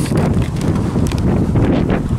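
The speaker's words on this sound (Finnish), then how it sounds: "Täällä muuten tuulee ihan oikeesti jonkun verran." Strong outdoor wind buffets the microphone with loud, continuous rumbling and irregular thumping gusts that fill the whole moment.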